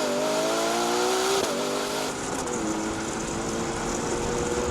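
A Kia and a Ferrari V12 accelerating hard in a rolling-start drag race: a loud, continuous engine roar with a steadily rising tone, a brief dip as a gear shifts, then climbing again, with no talk over it.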